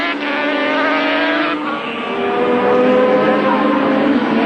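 Race cars of the 1983 Pan Am Countrywide Series roar around a track in close racing, several engines droning loudly together with shifting pitch and no break.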